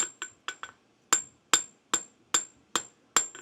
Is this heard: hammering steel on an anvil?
yes